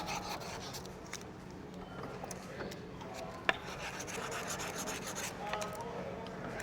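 Steady rough rasping of a rasp worked back and forth over a wooden serving tray edge, close and continuous, with a sharp tap partway through.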